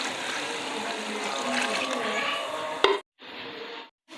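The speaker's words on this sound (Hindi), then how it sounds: "तो अब हम इसमें पानी डालेंगे" Water poured into a pot of rice being cooked for aloo matar pulao, a steady rushing splash that runs for about three seconds, then stops and resumes briefly.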